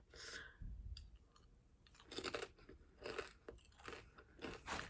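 Someone bites and chews a crunchy fried-egg-flavoured Spanish potato chip, giving close, crisp crackling crunches in quick clusters, faint and without talk.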